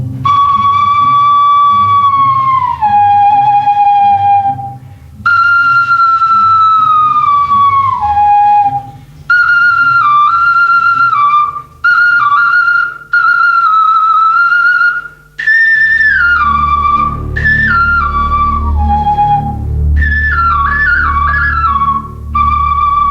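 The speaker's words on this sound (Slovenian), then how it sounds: "Če je kost z luknjicami delo človeških rok, ali bi lahko služila kot glasbilo?" A bone flute with finger holes plays a string of sustained, breathy whistling notes, each sliding down in pitch before stopping, with short gaps between phrases and a low rumble joining in partway through.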